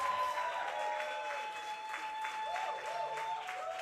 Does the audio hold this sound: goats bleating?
no